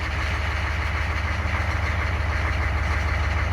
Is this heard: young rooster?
no